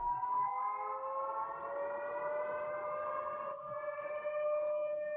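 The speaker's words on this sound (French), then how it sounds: "Et voici la sirène d'alerte aérienne à Orenbourg." An air raid warning siren sounds in Orenburg, a long, steady, distant wail with layered tones that holds throughout and slightly shifts pitch near the end.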